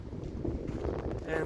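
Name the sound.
wind blowing over the microphone outdoors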